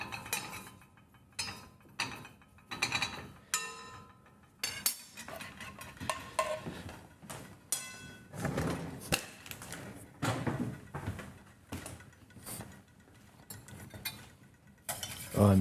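Custard filling for coconut cream pie whisked in a Pyrex glass bowl, with irregular clinks and scrapes of the metal whisk against the glass running throughout at close range, alone without speech.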